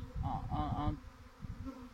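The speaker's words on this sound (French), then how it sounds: "les milliers d'abeilles qui viennent en position de vol" A swarm of thousands of honeybees flies in to land, making a dense, steady buzzing, with someone talking over the first half.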